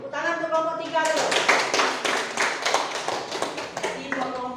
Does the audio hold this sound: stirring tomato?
no